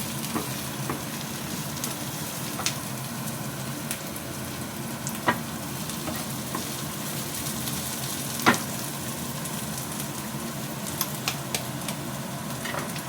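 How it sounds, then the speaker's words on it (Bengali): Egg poured into a pan after the onions have browned sizzles steadily and evenly, with a few sharp pops and clicks, close up and with no voices. "এবারে এটার মধ্যে আমি ডিম দিয়ে দেবো।"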